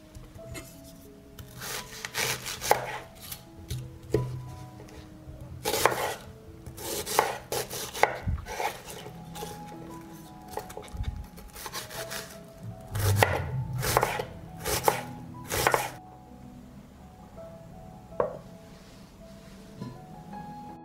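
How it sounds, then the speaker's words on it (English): A knife chops an onion on a board at close range, with repeated sharp thuds in uneven bursts and quieter scraping and shuffling between the cuts. "I'm going to cut an onion."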